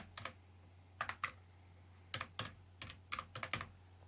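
Soft keystrokes on a computer keyboard come in small irregular clusters of two or three taps, close and quiet over a low steady hum, with no voices.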